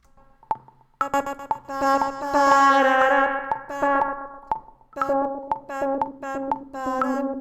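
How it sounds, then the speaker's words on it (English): A voice is run through a music-production low-pass filter that cuts away the treble, leaving a bassy, muffled tone with repeating echo-like ticks, sustained and fairly loud. "as I bring this down, it will be cutting more of the treble off"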